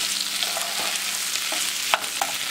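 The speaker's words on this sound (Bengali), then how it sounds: "পনিরটাকে ভালো করে গ্রেভিটার সাথে মাখিয়ে নেব।" Paneer is stirred into a sizzling gravy in a frying pan. A soft, continuous frying hiss runs underneath a few close, irregular scrapes and clinks of the spoon against the pan, with no voices.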